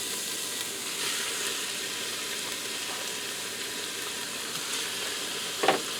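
A beef roast sizzles in a pressure cooker with a steady, even frying hiss throughout, close by, followed near the end by a short clatter.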